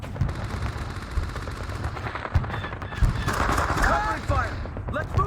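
Dense gunfire in a Vietnam War video game battle on a hillside, with rapid machine-gun bursts and scattered shots rattling continuously, mixed with shouting voices.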